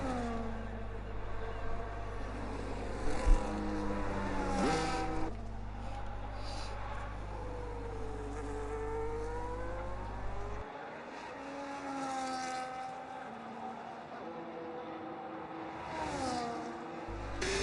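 A Formula 1 car in a game runs a qualifying lap at Monaco, its high-pitched engine climbing and dropping through the gears, with a brief tire chirp and a steady close onboard roar throughout.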